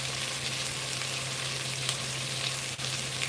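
Papaya sautéing in a pan for chicken tinola gives a steady, close sizzle that runs unbroken, with a faint low hum underneath and no talking.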